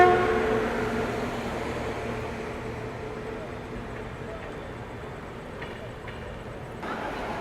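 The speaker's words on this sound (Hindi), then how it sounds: "देखिए वेब 7 के साथ पहुँच रही है दौंड इंदौर एक्सप्रेस।" The Daund Indore Express pulls into a station behind a WAP-7 electric locomotive, a broad steady rumble that slowly fades, with a few faint higher tones near the end.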